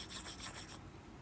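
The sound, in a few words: erasing writing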